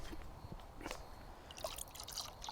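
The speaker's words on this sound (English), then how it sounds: "I'm just going to add a little bit of Scopex flavour." Scopex flavouring squirted from a bottle into water for fishing groundbait, soft close liquid drips and small splashes with faint squeezes, quiet and intermittent.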